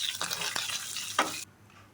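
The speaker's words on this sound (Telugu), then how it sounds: "అప్పుడు ఉల్లి ముక్కలు, కరివేపాకు వేసి ఇవి కూడా కొంచెం దోరగా వేయించాలి." Onion pieces and curry leaves fry in a pan with a steady close sizzle and a few stirring scrapes, the frying noise cutting off abruptly near the end; no speech.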